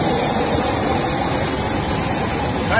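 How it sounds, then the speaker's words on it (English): Loud, steady jet engine roar with a high whine, continuous and close for the whole stretch with no voices over it. "is this a private jet?"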